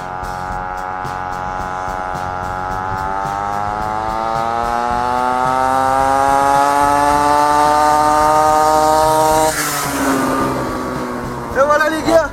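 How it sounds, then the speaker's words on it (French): A pocket cross bike's small engine drones and rises steadily in pitch as the bike accelerates through a 100-metre timed sprint, loudest near the peak before cutting back. Brief sounds from people nearby follow at the end. "il va nous faire le 100 mètres avec sa moto"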